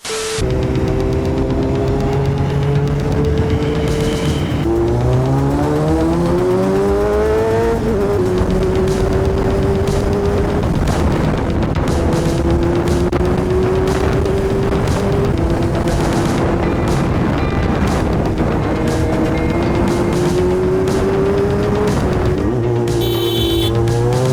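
A Kawasaki Z900 motorcycle engine drones loudly and continuously on a highway, its pitch climbing and settling through repeated gear changes over heavy rushing wind.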